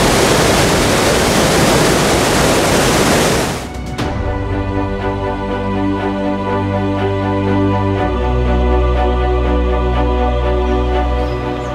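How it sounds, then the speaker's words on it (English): A river rushes thunderously on a walk near Wetherby, West Yorkshire: a loud, close, broadband roar for the first few seconds, then it gives way to a steady tonal hum with no talking. "I've mentioned before about sounds of rivers and streams and that, but down here it's thunderous."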